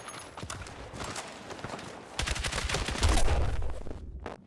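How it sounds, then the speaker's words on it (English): Rapid light machine gun fire from a precise, fairly high-fire-rate LMG in Battlefield 6, bursts of crackling shots that grow denser and louder in the second half, amid battlefield clatter. "a precision, decently high fire rate LMG with not a ass load of damage"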